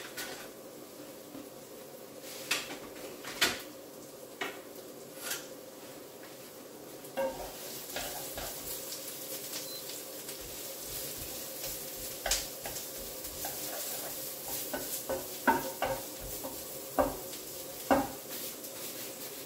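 Onions softening in a pan, cooked for a mince pie filling, with a steady faint sizzle and scattered scrapes and clinks of a utensil stirring, near and without talk.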